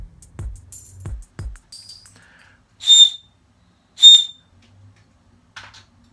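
A homemade whistle attachment on a blow-off valve tube gives two short, sharp high whistles, with a few softer chirps and low knocks around them and quiet gaps between.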